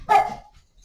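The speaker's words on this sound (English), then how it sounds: "Now, on cue, we have the barks happening." A single sharp dog bark, loud and close, ringing out alone and trailing off quickly into near silence.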